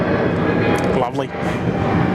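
Airliner at Sydney Airport, a steady broadband engine roar sustained throughout with a brief dip partway, heard amid ongoing background talk.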